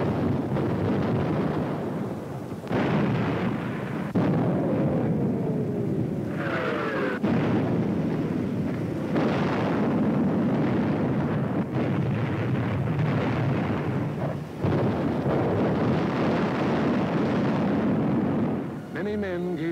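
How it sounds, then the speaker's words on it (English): WWII mortar and artillery shells exploding during the fighting below Mount Lungo at San Pietro, Italy: a run of heavy, rumbling blasts spaced every few seconds over a continuous low roar. "Mortar and artillery were deadly accurate by reason of excellent enemy observation from Mount Lungo"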